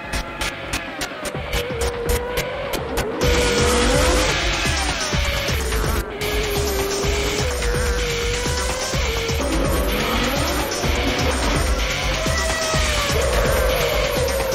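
Formula 1 race cars roar past with loud, high engine whines that rise and fall in pitch, mixed with a steady hum. The sound stays dense and continuous, with no talk over it.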